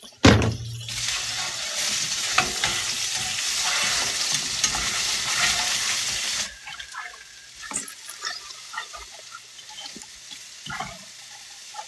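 Food frying and sizzling in a stainless steel pan, stirred with a spatula, loud and steady for the first half, then quieter with scattered scrapes and clinks.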